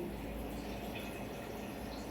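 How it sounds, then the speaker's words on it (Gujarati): Water poured into a pot of dal just after tempering with spices, a steady low liquid rush and burble that carries evenly through the whole short stretch with no talk. "હજુ થોડું પાણી એડ કરીશું"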